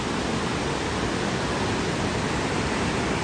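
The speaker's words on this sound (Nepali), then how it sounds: "यो फुङ झरना अरे डेन्जर छ होइन, फाङथुङ फाङथुङ गरेर झरेको भएर होला।" Phung waterfall near Manang, Nepal, a continuous loud broadband roar of rushing water, close and steady with no pauses, and no voices audible over it.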